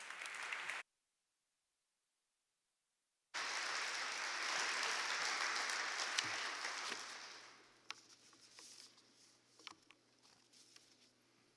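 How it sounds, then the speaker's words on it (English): A university crowd gives a round of applause for a speaker: after a brief silence, a burst of full clapping rises, holds for several seconds, then thins into scattered claps and tails off. "Let's give Mark Dewey a round of applause."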